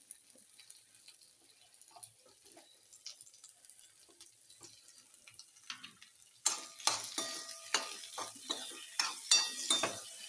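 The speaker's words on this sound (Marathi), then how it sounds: "आता आपण बटाटा टाकू ह्याच्यामध्ये हो भाजी" Potatoes go into hot oil in a pan for a fasting-day dish: quiet faint background at first, then a sudden louder frying sizzle with repeated stirring scrapes and clinks.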